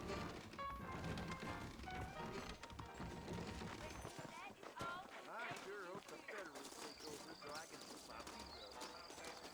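Horse hooves clip-clop at a steady trot along a trail in Red Dead Redemption, close and rhythmic under game music and dialogue, with a brief whinny near the start.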